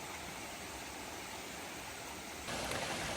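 Cool spring water flows steadily along the Appalachian Trail, a constant close-up rushing and trickling with no voices, growing slightly brighter and louder toward the end.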